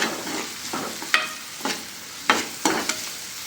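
Sliced onions with green chillies fry in a pan, a soft sizzle broken by repeated spatula strokes every half second or so, close and alone without speech.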